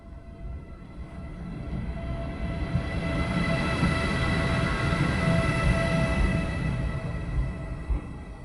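A train pulls in at a station on a journey toward the Adriatic Sea, a steady rolling rumble with squealing wheel tones that swells and grows louder as it nears, with no talking.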